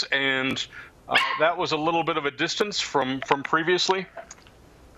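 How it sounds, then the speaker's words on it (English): A dog barks in a quick series of loud, close yips and bow-wows, pausing briefly before another burst, while a person keeps talking underneath. "Oh, that's my dog"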